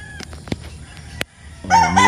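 A chicken bursts into a loud, close crow in the last half-second, after a few sharp clicks and knocks in a quiet yard.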